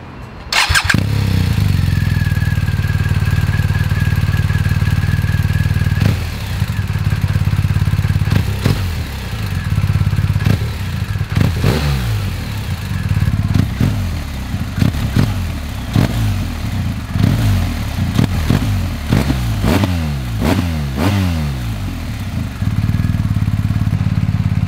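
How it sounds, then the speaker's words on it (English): BMW R1250GS motorcycle with its boxer engine running loudly close by, a steady deep idle punctuated by repeated throttle blips and revs, with no talking over it. "the sound of the Boxer engine are perhaps actually the worst parts of the 1250 GS for me"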